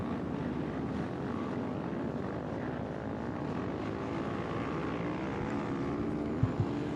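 Outlaw Trike division racing on ice at Lake Wissota near Chippewa Falls, a continuous droning roar of several engines at middle distance, steady throughout with a couple of faint knocks near the end.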